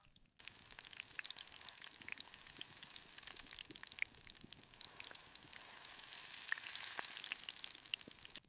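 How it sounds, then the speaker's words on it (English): Lake trout sizzle steadily in a pan over a campfire on a frozen lake, a faint, even frying hiss with scattered sharp pops and crackles and no one talking. "Listen to that sizzle."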